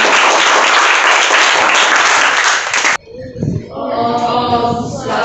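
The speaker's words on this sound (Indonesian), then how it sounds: "Beri tepuk tangan lagi." Audience applause after a closing prayer at a teacher-training presentation: dense, steady clapping for about three seconds, cutting off abruptly, followed by a voice speaking with some remaining room noise.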